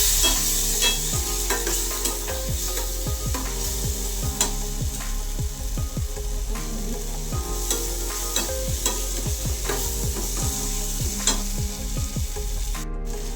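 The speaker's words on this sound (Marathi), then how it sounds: "रेड चिली सॉस, याला छानपैकी हलवून घेऊया" Red chili sauce is stirred in a hot pan for Maggi noodles, a spoon scraping in repeated quick strokes over a steady sizzle, close and moderately loud with no talk.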